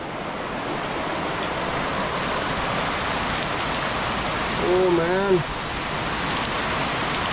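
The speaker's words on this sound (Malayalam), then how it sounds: "മാരക മഴ എന്ന് പറഞ്ഞാൽ മാരക മഴ, ഭയങ്കര മഴ." Heavy monsoon rain pours steadily and loudly outside a home in Kerala, a dense continuous hiss, with a brief exclamation from a voice partway through.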